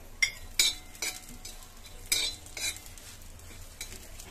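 Cumin seeds crackle and sizzle in hot oil for a spicy thecha, with a series of distinct scraping stirs from a spoon at irregular intervals and a steady frying hiss underneath.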